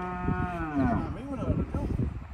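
Cattle at a farm during vaccinating give a loud, close, drawn-out moo with wavering pitch, followed by shorter lowing calls and faint background voices.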